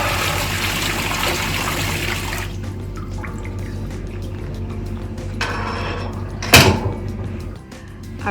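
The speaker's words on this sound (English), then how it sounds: "we're gonna push our vat over, and all the water is going to spill out" Water gushes out of a tipped dye machine vat into a sink as a steady, loud rush for a couple of seconds, then drops to quieter trickling and dripping with a brief clatter near the end.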